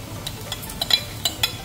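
Egg dropped into a hot pan over cooked vegetables for egg fried rice, giving soft frying sizzle with light scraping and clinks of a utensil against the pan, close and fairly quiet with no talking.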